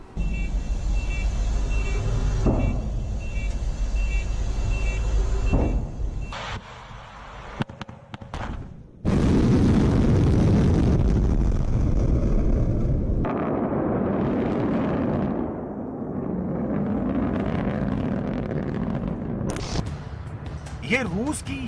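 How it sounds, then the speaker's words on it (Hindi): Launch of a Russian Yars (RS-28) nuclear missile: a loud, sustained roaring rush bursts in partway through and holds for several seconds before easing into a fluctuating rumble, with wind buffeting the microphone and voices around it. "परमाणु हमला करने वाली ये मिसाइल जब अपने टारगेट की तरफ बढ़ती है तो कैसे आकाश में आग लगाती है, इसे देख लीजिए।"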